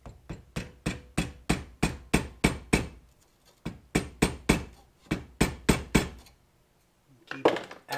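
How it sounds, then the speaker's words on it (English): Homemade rocket motor propellant being tamped into a tube, a steady series of sharp, evenly spaced knocks in two runs with a brief pause between them, followed by a short scraping rustle. "Do some tamping."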